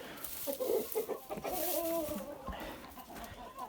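Young hens of the Liven chintz, Amrox and White Leghorn breeds cluck softly and intermittently in a coop, their low, muffled calls rising and falling at some distance in a quiet setting.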